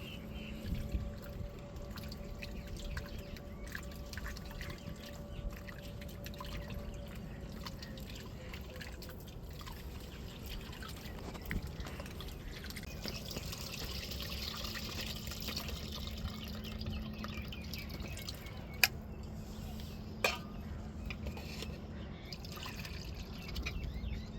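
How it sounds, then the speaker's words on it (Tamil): Coconut milk is poured into tamarind and squeezed and mixed by hand, making soft, continuous liquid sloshing and trickling. It stays quiet and close throughout, with a couple of sharper splashes near the end. "இப்போ பாலை புளியில் ஊற்றி நம்ம கரைச்சி எடுத்துக்கிடுவோம்"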